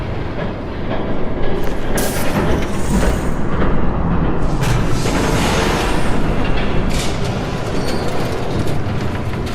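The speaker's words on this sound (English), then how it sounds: "There's a train coming." A train in a Batman video game rumbles past loudly and steadily, with a dense roaring clatter of rail cars that sustains throughout without speech.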